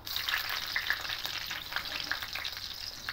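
Panch phoron and slit green chillies sizzle in hot mustard oil with a steady, close, bright crackle that keeps a fairly even level throughout, with no talking.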